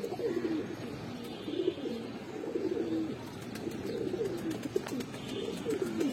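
Pigeons at a Bangladeshi bird seller's coo repeatedly in overlapping low, warbling phrases across the whole stretch, fairly close, with faint background bustle and no talk.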